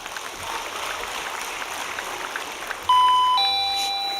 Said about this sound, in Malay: Tutuplah loceng tu.